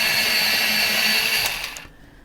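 An electric sharpener grinds a colouring pencil, a loud steady whirring buzz close up for about two seconds before cutting off.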